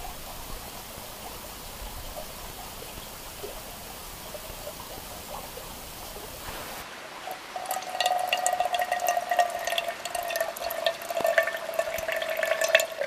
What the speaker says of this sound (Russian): Первые 50 или 100 литров вода будет пробегать вот такой вот тоненькой струйкой.